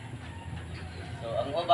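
Chickens cluck softly in a rural yard, a faint, steady clucking under background noise that grows slightly louder toward the end.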